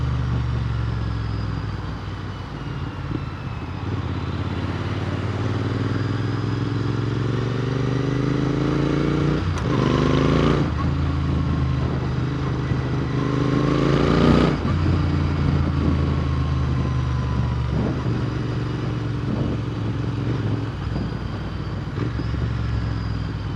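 Motorcycle engine droning steadily while riding along a road on the Gold Coast, Australia, heard close from the rider's position with wind rush and a few revving gear changes throughout.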